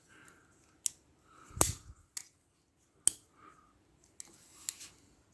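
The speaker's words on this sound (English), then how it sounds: "those scissors actually work pretty good" Small scissors on a Dia camping DL30 multi-tool snip several times, each a sharp, close metallic click spaced irregularly with quiet gaps between, no talk.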